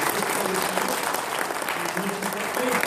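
An audience at a manufacturers' forum applauds the manufacturers with steady, dense clapping that fills the whole stretch, with faint voices murmuring underneath.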